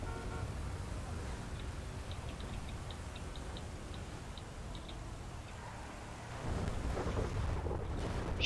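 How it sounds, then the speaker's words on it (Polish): A thunderstorm in GTA V: a steady hiss of rain and wind with faint ticking, then a low rumble of thunder rolling in louder toward the end. "Pioruny napieprzają, kałuże na drogach,"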